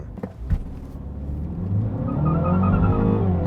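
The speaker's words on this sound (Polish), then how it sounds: "Będzie gorzej, bo zapiszczało oponami." A car accelerates hard from a standstill, the engine revving and rising in pitch close by with a tonal squeal from the tires over it, and no talking.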